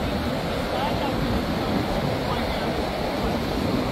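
Broad, steady wash of ocean surf breaking on Mooloolaba Beach, a constant roar close to the microphone with no distinct individual wave crashes.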